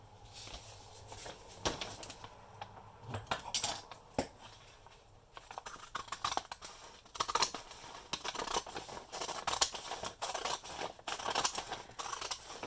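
Scissors snip through paper being cut for a handmade graduate journal cover, with steady close crisp cuts that quicken toward the end among light rustling, quiet with no talking.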